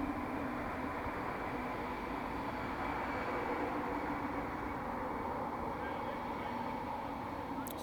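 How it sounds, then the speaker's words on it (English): A steady, low rumble of trains passing at a distance, continuous throughout with no breaks. "It's the time of the day where the trains seem to get louder."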